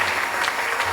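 People at a prayer marathon service clap together, producing a brief burst of rhythmic applause under a faint low hum that lasts less than a second.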